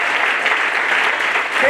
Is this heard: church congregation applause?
yes